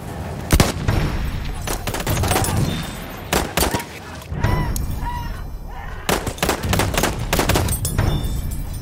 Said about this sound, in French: C'est une mitrailleuse ennemie.